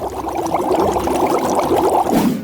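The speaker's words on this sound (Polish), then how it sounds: "i zanurzamy we wrzącej wodzie" Steady bubbling, pouring rush of boiling water as an egg is lowered in, loud and close, continuing without a break for a couple of seconds.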